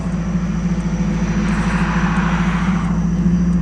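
A Nissan Hardbody pickup with a possible blown head gasket pulls away on a wet road, its engine droning loud and steady with a low hum and broadband road hiss for the whole stretch, no voices.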